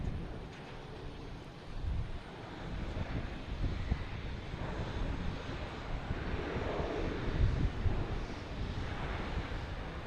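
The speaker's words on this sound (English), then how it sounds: "That's Aer Lingus coming in from Dublin." A passenger airliner arriving from Dublin comes in to land at Boston Logan Airport, its broad engine roar building steadily over ten seconds amid gusty wind noise on the microphone.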